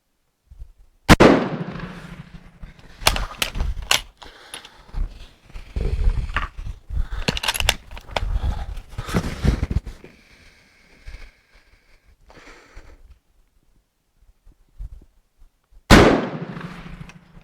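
Swedish Mauser 96/38 bolt-action rifle firing outdoors: two loud, sharp gunshot blasts far apart, one early and one near the end, with clattering bolt and handling noises in between.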